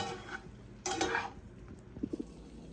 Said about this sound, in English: Now it's time to add the noodles. And again, just stir this bit around.